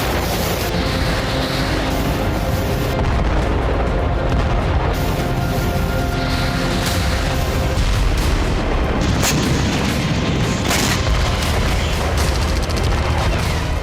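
Explosions from Russian missile and bombing strikes in Ukraine, heavy booms and rumbling blasts layered over a loud continuous roar, with sharp cracks recurring throughout.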